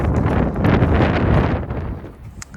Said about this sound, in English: with this wind, hopefully you can hear my voice